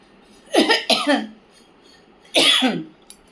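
A person coughs in short bursts: two quick harsh coughs close together, a pause, then one more cough, close and fairly loud against a quiet room.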